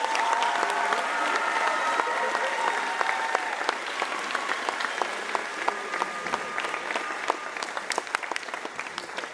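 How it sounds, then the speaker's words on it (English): A crowd at a high school graduation ceremony gives loud, sustained applause in honor of state-placing track athletes, with thick continuous clapping and faint cheering mixed in throughout. "let's hear a huge round of applause for these state officials"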